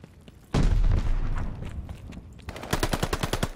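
A loud, close grenade blast in the game Call of Duty Vanguard opens with a heavy boom that rumbles briefly. A rapid burst of automatic gunfire follows, with no voices.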